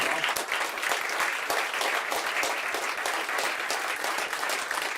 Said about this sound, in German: Und einen Applaus für euren grossen Einsatz für die Bären.